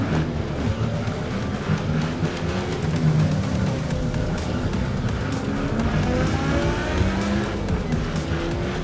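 An angkot minibus is driven fast in a racing video game, with a steady engine roar and continual tire squealing and skidding that run without a break.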